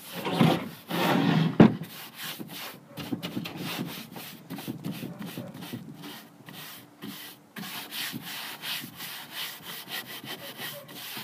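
A paintbrush scrubs paint into the sides of a wooden drawer for a Swedish paint finish, making close, steady rubbing and scratching strokes in a quick, uneven rhythm, heard alone.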